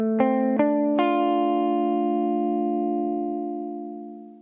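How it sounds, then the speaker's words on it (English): An electric guitar played dry with no reverb: three plucked chords struck in quick succession, then left to ring and fade on their own, close and clean without any talking. "So here's the guitar first dry."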